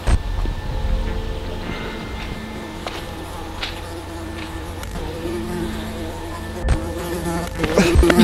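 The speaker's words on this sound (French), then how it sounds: "Il y a des mouches partout." Flies buzz continuously at close range in a noisy indoor space, a faint steady drone beneath rumbling low background noise with a few sharp knocks and brief voice fragments.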